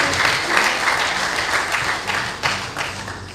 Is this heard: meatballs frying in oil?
no